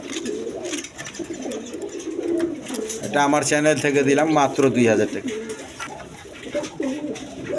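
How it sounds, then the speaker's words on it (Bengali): Pigeons coo in soft repeated bursts at a pigeon seller's, partly beneath someone talking steadily over them. "রানিং পেয়ার ডিম বাচ্চা করোনা কবুতর"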